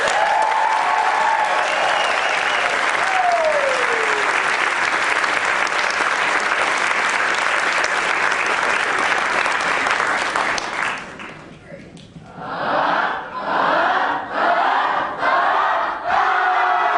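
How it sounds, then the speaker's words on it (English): Big audience at a children's camp theatre show at the Berkeley Rep bursting into loud applause mixed with cheers and whoops, sustained for about ten seconds before it thins and a voice speaks with cheering still around it. "So your job today is to applaud wildly at every chance you get."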